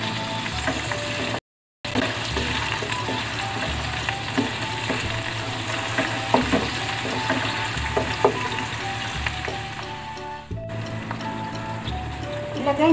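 Onion sautés in a pan for a Filipino beef loaf with ampalaya, a continuous sizzle and frying crackle with stirring scrapes, as a voice talks over it.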